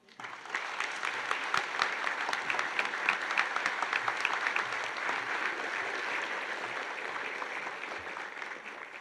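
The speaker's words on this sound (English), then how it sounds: "give her a much-deserved round of applause" An audience at a college honors ceremony applauds an award recipient: steady, even clapping from many hands, moderately distant and sustained for several seconds before tapering slightly.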